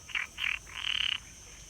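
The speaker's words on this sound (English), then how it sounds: "there's like violent frog noises going on right now." Frogs croaking nearby in three quick rasping bursts, the last one longer and pulsing, loud and clear against a quiet background with no talk.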